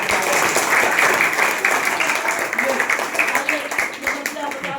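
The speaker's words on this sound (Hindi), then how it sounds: "अयोध्या कुमारी के नाम पर जोरदार से ताली" A school audience claps loudly for a young schoolgirl, a sustained burst of many hands that gradually loosens and thins, with voices mixed in beneath the clapping.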